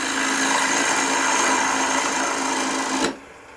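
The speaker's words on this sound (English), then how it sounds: "I'm going to take my trusty bowl gouge, but this time instead of cutting out, I'm going to cut in." A bowl gouge cuts a shallow recess into a spinning wooden bowl blank on a lathe, a steady close hiss of shaving wood that stops abruptly near the end, leaving only the faint hum of the lathe.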